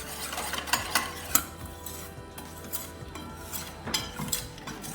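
Flour and milk batter being whisked for pancakes in a kitchen, a steady scraping stir with irregular clinks of utensil against bowl, close and fairly loud, no voices.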